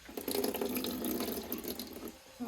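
Water runs from a washbasin at a dacha in a soft, steady trickle and splash, fairly faint and close, with no voices.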